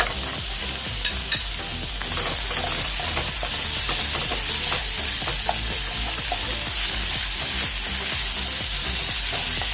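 Chicken with garlic and ginger paste frying alongside tomato and onion, a dense continuous sizzle with frequent quick scraping stirs of a spatula, close up and loud, with no voices.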